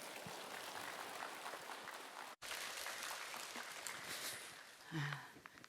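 A church congregation gathered for a summer prayer meeting applauds to welcome a speaker, producing steady, dense clapping from many hands in a large room, fairly faint and distant, with a brief dropout partway through.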